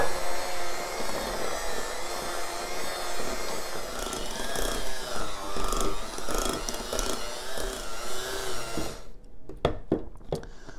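An electric mixer whirs steadily through Oreo cheesecake filling with icing sugar, a close continuous motor drone with shifting tone that cuts off near the end, followed by a few sharp knocks.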